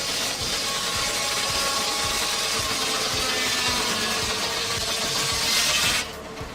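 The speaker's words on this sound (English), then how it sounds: "the vintage sawmill roared back to life, slicing through timber with pure mechanical power" Vintage sawmill running at the 45th annual Western Missouri Antique Tractor and Machinery Association show, its blade slicing through timber; a loud, continuous mechanical whine over a rhythmic low thumping engine beat, cutting off abruptly near the end.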